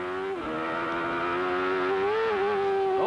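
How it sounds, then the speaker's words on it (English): Race car engine revving hard as it crests a hill, a loud sustained high-pitched whine with pitch wavering upward as the wheels spin when the car goes light, close and continuous. "Oh, and you hear the wheel spin? Car got light."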